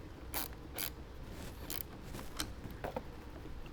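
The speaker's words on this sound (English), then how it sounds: "Go ahead and tighten down our 10 mil." A ratchet tightens a 10 mm nut on an inline fuse cable at a battery terminal during a powered subwoofer install in a 2020+ Jeep Gladiator, with a series of close, quick metallic clicks in short bursts.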